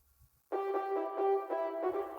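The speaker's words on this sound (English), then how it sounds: "So all I've done is just change this pluck lead to a more aggressive lead." Aggressive synth lead, swapped in for a softer pluck lead in an electronic track breakdown, playing a sustained bright harmonic melody alone after a brief pause, steady and loud with slight swells.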